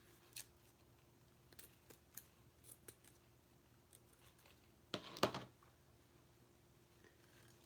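Quiet, scattered snips and clicks sound close by, with one louder crisp cut near the end, set against near silence.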